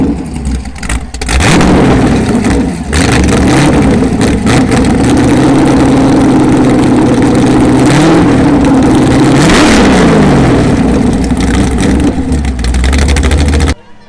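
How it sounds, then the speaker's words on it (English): A Porsche 911 race car engine idles loudly up close at a car show, then revs several times in rising and falling sweeps before settling back to a rumbling idle. "the 911 race car actually just started up. And he's giving us a couple revs"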